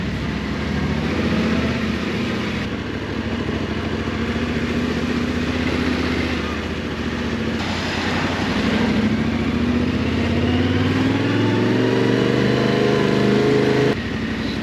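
A Yamaha Tenere 700 motorcycle engine runs continuously with a low, rumbling drone that rises in pitch near the end, loud and close, with wind-like noise over it.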